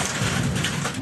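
Heavy rain pours steadily over Brisbane, Queensland during a wild summer storm, a dense close hiss of downpour with a low thunder rumble underneath, no voices.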